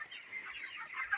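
Broiler chickens on a farm cluck and chirp in a brief, busy patch of overlapping calls at moderate distance.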